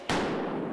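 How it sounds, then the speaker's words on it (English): A single loud, sharp gunshot rings out at a high school during an active shooter training exercise. Its echoing tail rolls on briefly in the building. "Gunfire."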